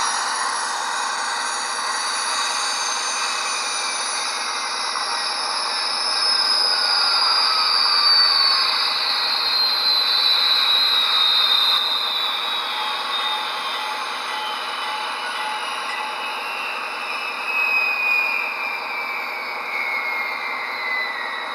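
A Lionel HO scale gas turbine model locomotive fitted with an ESU LokSound decoder gives off a steady synthesized turbine whine and hiss, with rising and falling high tones, running continuously throughout.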